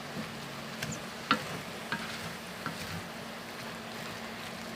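Ground meat frying in a pan for tamale pie, a soft steady sizzle with a few faint scraping taps of a utensil chopping it up, fairly quiet and without talk.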